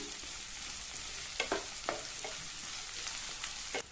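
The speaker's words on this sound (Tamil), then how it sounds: "அடுத்து இதுல இந்த ஆனியன் பார்ட்டை சேர்த்து ஒரு 2 நிமிஷம் போல வதக்கிக்கலாம்" Chopped onion sautéing with potatoes in a hot pan for potato spring onion masala, a steady broad sizzle with a few sharp spatula scrapes and clicks against the pan, close and alone.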